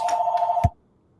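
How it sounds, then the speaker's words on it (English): A telephone rings once with a steady electronic tone that cuts off abruptly, followed by near silence; no talking. "and the phone rings"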